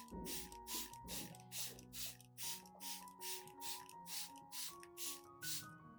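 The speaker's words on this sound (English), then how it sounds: "When spraying, don't forget both the upper and lower surfaces of the leaves" Spray bottle misting solution onto orchid leaves: a steady run of about fourteen short, hissing bursts at an even rhythm, close and soft, with quiet music playing underneath.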